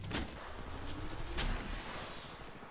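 Distant gunfire from two squads fighting in Apex Legends Mobile, a couple of sharp cracks over a low rumbling background, faint and far off.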